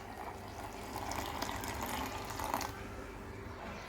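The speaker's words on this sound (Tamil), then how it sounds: "அடுத்து 2 கப்பு தண்ணி ஊற்றணும்." Water pours steadily into a blender jar while an aloe vera drink is made, a faint, close gushing trickle lasting a few seconds before tapering off.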